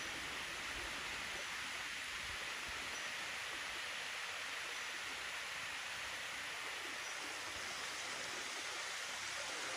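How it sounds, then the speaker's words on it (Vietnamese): A forest waterfall and stream at Thủy Liêm on Núi Cấm pour in a steady, broad rushing wash, constant and fairly close, with no voices. "dòng thác trên Thủy Liêm chảy xuống"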